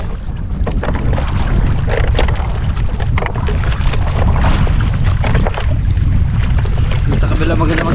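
Strong wind buffets a small fishing boat at sea during net fishing, with rough waves sloshing against the hull in a constant, loud roar of wind noise and water.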